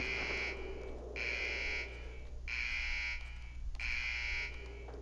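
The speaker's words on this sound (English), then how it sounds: "which one of you kids threw a rock at my car? The alarm's going off." A car alarm blares in the video game Iron Storm, a steady electronic tone pulsing in regular on-off bursts, about four cycles, loud over a constant low hum of game background noise.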